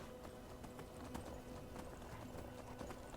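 Horse hooves clip-clopping at a steady riding gait in the video game Skyrim, a soft, even rhythm of muffled hoofbeats over a dense, low background wash, with no voices.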